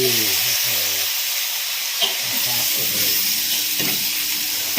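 Chinese kale and pork stir-fry in a hot pan, giving a constant close hissing sizzle with occasional light scrapes and a faint voice low in the background.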